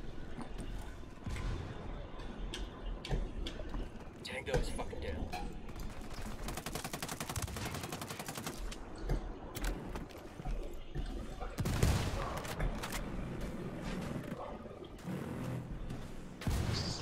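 Video game gunfire: rapid bursts and scattered shots, machine-gun style crackle over a busy battle soundscape, mid-loud, with someone talking over it.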